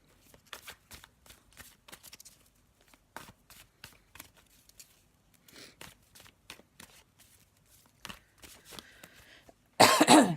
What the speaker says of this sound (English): let me just have a little shuffle and pop down our tarot card for us